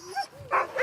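A retired Iditarod sled dog from Alaska gives short yips and a whimpering bark, a few quick vocal bursts close by with no talking.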